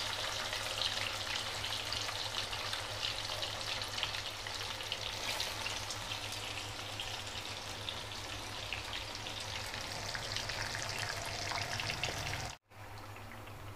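Rohu fish frying in hot oil, giving a steady, dense sizzle and crackle that runs without a break and cuts off abruptly near the end, with no voices.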